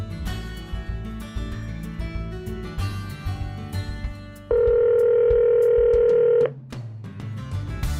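A phone call placed through an Android Auto car system: a rapid run of telephone dialing tones, then a long steady ring tone, all fairly clear with no talking.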